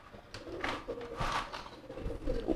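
Pigeon giving a giring courtship call, a few close, soft, throaty cooing bursts in quick succession with no talking.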